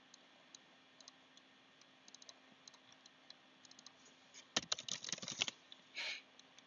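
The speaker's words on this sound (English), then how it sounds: "We're going to type in 1" Computer keys are tapped as scattered faint clicks, then a short quick flurry of louder keystrokes near the end, followed by a brief soft rustle.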